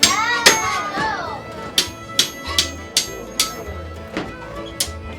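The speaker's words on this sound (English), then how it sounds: "Do I need a hammer to straighten that?" A hammer rings against hot metal, straightening a bend, in about nine sharp, clanging strikes at an uneven pace, with faint voices in the background, at Old Sturbridge Village.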